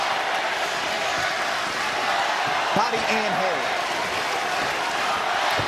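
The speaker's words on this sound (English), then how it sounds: "The crowd is electric here in the Huntington Center, Toledo, Ohio" Arena crowd at a boxing match in the Huntington Center, Toledo, Ohio, a steady loud roar of cheering and noise under a commentator's voice.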